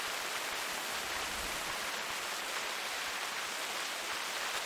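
Steady rain falls in a goose-hunting video game, an even, continuous hiss with no talk over it, constant in level throughout.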